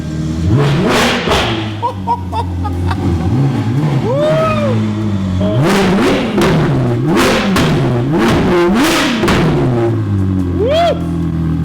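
A modified Ferrari with a new exhaust revs repeatedly in sharp bursts, the exhaust rising and falling in pitch, loud and close, with thumping pops between revs.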